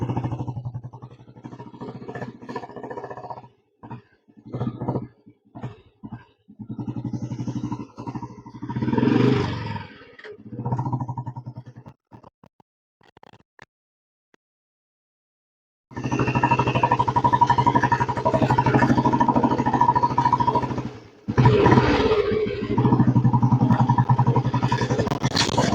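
An old-model Royal Enfield Bullet 350 motorcycle being ridden, its engine rumbling unevenly with gaps and pauses early on, then a loud, sustained steady drone through the latter half, with one brief break.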